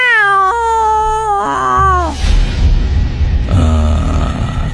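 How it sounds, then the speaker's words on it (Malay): A cat lets out a long, menacing, wavering meow, loud and close, which then breaks into a harsh, noisy hiss-like snarl. "Kucing tu tiba-tiba mengiau Casey dengan nada suara yang menakutkan sangat"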